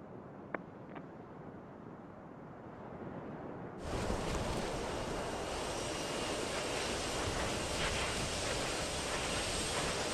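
Space Shuttle Endeavour's engines roar through launch ascent in November 2008, a broad, steady rumbling wash that swells in abruptly partway through and then holds loud and continuous to the end, with no talk over it.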